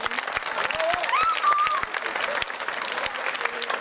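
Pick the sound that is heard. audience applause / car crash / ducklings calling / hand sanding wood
audience applause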